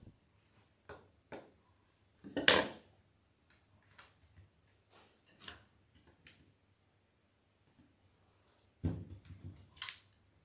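Cutting stained-glass lead came with a hand tool gives sharp, dry clicks and snips, a few louder crunching cuts among lighter ticks, spaced irregularly against a quiet background.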